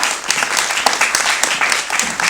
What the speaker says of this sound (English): let's give Mount Mohill a round of applause.